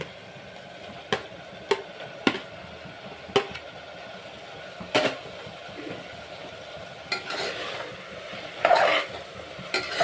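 Tomato pieces fry in a pot of mutton curry (pulusu), giving a steady low sizzle broken by several sharp scrapes and clacks of a stirring spoon against the pan, with no talking.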